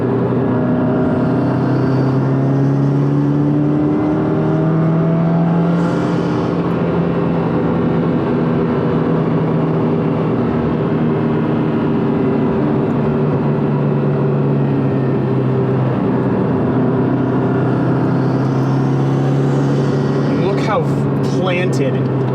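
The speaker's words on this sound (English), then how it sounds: "Planted and flat this car stays through these corners." A car on FactionFab FR-Spec V2 coilovers drives through winding curves, its engine and road noise a steady loud interior rumble with shifting tones, under a person talking.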